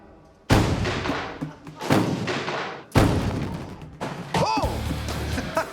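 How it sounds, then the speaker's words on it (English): Ethanol fumes inside a wooden shack ignite from a spark and explode in a series of heavy booming blasts, followed by crashing and rumbling debris; voices react faintly. "The rag put the torch to the ethanol, exploding the shack just as they hoped it would."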